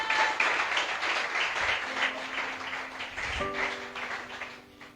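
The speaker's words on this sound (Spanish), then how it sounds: "Denle un fuerte aplauso a Jesús." A church congregation applauds during a sermon, a soft, steady wash of clapping heard from some distance, with faint sustained musical tones underneath.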